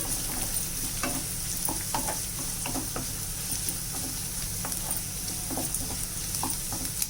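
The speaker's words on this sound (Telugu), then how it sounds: "మన దొండకాయ వేగిపోయింది క్యారెట్ కూడా వేగిపోయింది" Ivy gourd and carrot pieces frying and being stirred in a pan, a steady close sizzle with scattered scraping stirs and small pops throughout, no voices.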